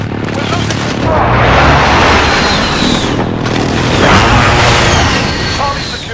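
Heavy in-game airstrike explosions in a military shooter: a sustained run of loud, rumbling booms and blasts that swell and fade twice, with crashing debris and gunfire layered throughout.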